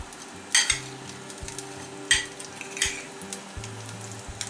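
Onion rings frying in oil in a pan: a soft, continuous sizzle with a few sharper clinks and scrapes scattered through it, close and moderately quiet.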